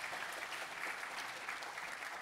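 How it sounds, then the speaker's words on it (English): Conference audience at a tech keynote applauding steadily, a dense wash of many hands clapping at even strength throughout, with no voices over it. "Feel free to clap if you need to"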